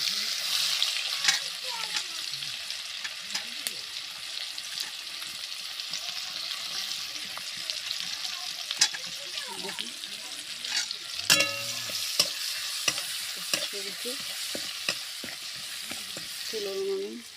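Onions fry in oil in a pan, a continuous close sizzle broken by repeated scraping strokes of a spoon stirring them, with a few faint voice-like sounds in the background.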